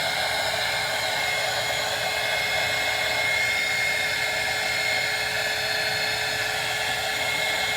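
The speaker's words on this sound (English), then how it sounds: "I just got this heat gun." A newly bought heat gun blows over fresh paint on a handmade baby doll, giving a steady, loud, close-up whooshing whir that holds unchanged throughout with no talking.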